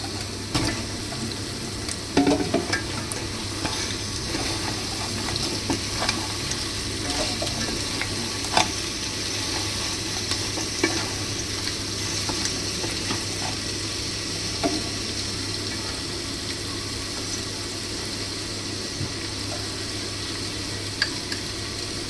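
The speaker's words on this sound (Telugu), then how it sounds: "ఆనియన్ పీస్ మొత్తం వేగిపోయిన తర్వాత ఇప్పుడు మనం శుభ్రం చేసుకున్న పీతలను వేసుకోవాలి" Cleaned crabs frying with browned onion pieces in a pan for crab curry, a steady close sizzle with scattered crackles and spoon scrapes running throughout, no voices.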